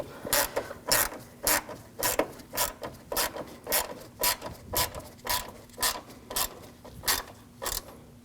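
Rhythmic ratchet clicks tighten bolts on a 2007–2013 BMW 328i 3.0L inline-six radiator during replacement. The sharp, close strokes come at an even pace, about fourteen in eight seconds, with no voices.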